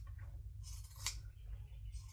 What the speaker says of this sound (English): again with the zigzag scissors, I'm going to cut that off